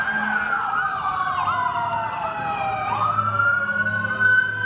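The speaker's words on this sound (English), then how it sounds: "now there's sirens. Ambulances are starting to arrive." Ambulance sirens wail steadily at an outdoor active-shooter disaster simulation, a continuous rising and falling tone from emergency vehicles arriving, moderately near with a low background rumble.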